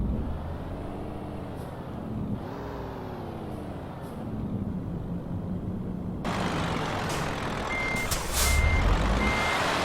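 In Euro Truck Simulator 2, a heavy truck engine rumbles and shifts while evenly spaced reversing beeps chirp in a steady pattern, joined later by a hiss like air brakes.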